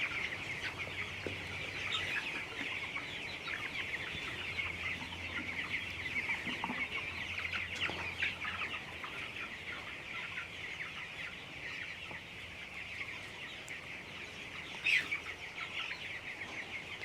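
Broiler chickens at about 21 days old in a poultry farm shed, many birds clucking and calling together as a steady, moderately quiet flock murmur with occasional sharper individual clucks.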